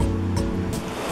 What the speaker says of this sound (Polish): to jest taki wodospad, ten potok to Kryniczanka.